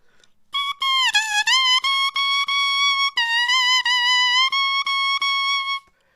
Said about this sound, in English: It's a double reed instrument, which means it has a piece of wood with 2 sides, and you blow through it.